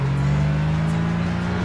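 Racing car engine from the Nissan GT Academy 2013 video game, a steady droning hum held at a constant pitch throughout, loud and continuous with no talk.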